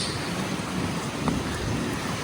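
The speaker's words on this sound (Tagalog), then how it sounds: "Tapos tuloy-tuloy pa ang ulan." Steady, dense rain pours down in flooded Manila near Taft Avenue and Quirino, a continuous broadband hiss with no break and no voices.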